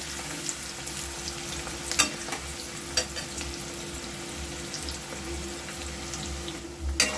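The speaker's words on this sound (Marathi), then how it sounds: "आता याच्यामध्ये कांदा टाकून घ्यायचा. कांदा बघा चांगला परतून घ्यायचा" Onion sautés in hot oil for a chicken gravy, a steady soft sizzle with occasional clinks and scrapes of stirring, heard close and alone without talk.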